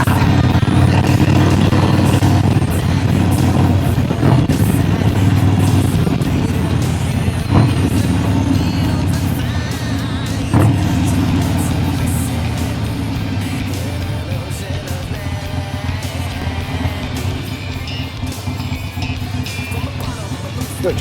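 A Harley-Davidson Sportster motorcycle engine idles with a low, steady rumble that fades slightly over time, while a voice talks intermittently over it.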